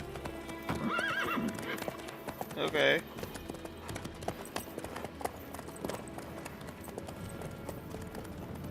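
Horse hooves clip-clop and a horse neighs in The Witcher 3, the game's hoofbeats steady through the clip with a loud whinny near the three-second mark, while a person speaks briefly over the game sounds.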